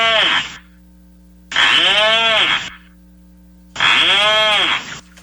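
A rhinoceros auklet seabird utters three drawn-out, rasping, groan-like calls, each about a second long with short silent gaps between, loud and close.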